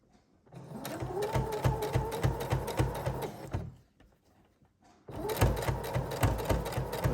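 A sewing machine stitches underwear fabric near an elastic band, running in a steady, rapid mechanical whir for about three seconds, pausing briefly, then starting again.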